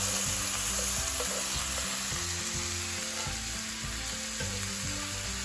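Gyro meat browning in a hot pan gives a loud, continuous close sizzle with a rhythmic musical backing running underneath.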